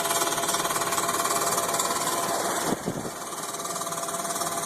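A homemade electric vehicle conversion motor drives at Hayden Lake, giving a steady, loud mechanical buzz and whine throughout, with a brief dip partway through before the drone resumes.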